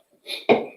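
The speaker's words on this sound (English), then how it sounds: "I feel a sneeze coming up, sorry." A single sneeze, close and fairly loud: a sharp breathy intake followed by a forceful burst that trails off quickly.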